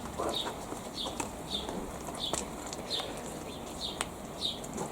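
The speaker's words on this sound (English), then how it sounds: "I know it's abating because the birds are tweeting again. All the sparrows up in the olive tree." Sparrows in an olive tree after rain, chirping in short repeated bright notes about every half second over a soft wet ambient hiss, moderately distant, no talking.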